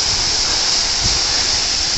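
The Tanashita Fudo waterfall in Shibukawa, Gunma, crashes into a narrow plunge pool about ten meters away as a loud, continuous roaring rush of falling water, heard close and alone.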